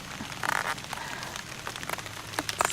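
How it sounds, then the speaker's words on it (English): Rain patters steadily on a garden with soft crackling drops and a few louder splashes on leaves and surfaces nearby, no voices over the wet hiss. "it's just raining and raining."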